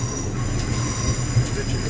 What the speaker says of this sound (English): This train, the Heathrow